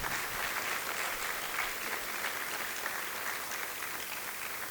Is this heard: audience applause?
yes